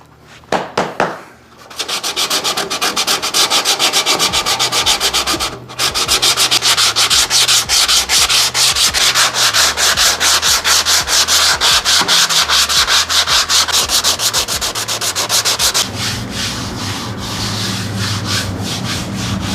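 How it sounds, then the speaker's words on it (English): Body filler on a car dent is sanded by hand in long, rhythmic back-and-forth strokes, a loud, close scratchy rasp repeating steadily with a brief pause partway through. "So let's see how far we get with this, huh?"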